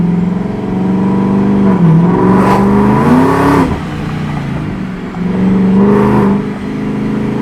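A 2021-or-later Ford F-150 with the 5.0 V8, ProCharger supercharger and equal-length exhaust revs loudly and close by, its engine note rising and falling in several surges with a whirring, airy edge and no talk.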